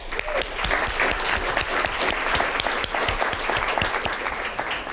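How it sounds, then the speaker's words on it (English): Sustained applause from a business panel audience, dense and steady throughout, close and loud with no voices standing out. "Round of applause."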